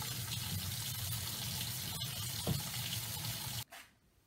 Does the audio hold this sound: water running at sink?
yes